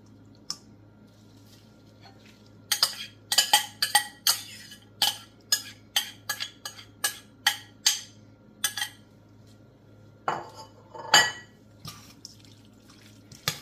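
Cabbage, shrimp, sausage and smoked turkey necks are stirred together in a pot, a run of wet squishing, clinking strokes in a fairly regular rhythm, close and moderately loud over a faint hum.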